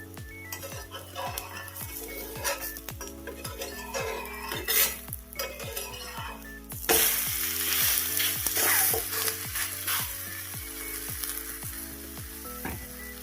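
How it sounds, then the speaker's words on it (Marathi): Tender jackfruit thalipeeth cooks in a pan with a soft sizzle and rhythmic utensil clinks, then bursts into a louder, brighter hiss as oil is poured in, the frying continuing close and steady. "मी झाकणं काढते आणि खाली चिकटू नये परतताना परत खाली चिकटू नये म्हणून मी तेल सोडते"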